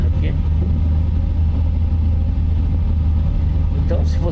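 A truck engine rumbling steadily while the rig turns around on a road in American Truck Simulator, set in Alaska; low continuous drone, loud and close, with a brief chirp near the end.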